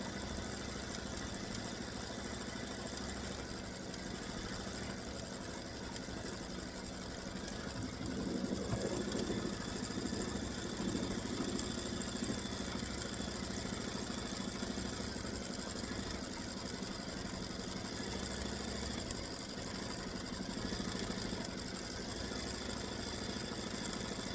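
A quilting machine stitches out an edge-to-edge design, its steady mechanical whir running continuously with a low motor drone and a slight rise in intensity midway.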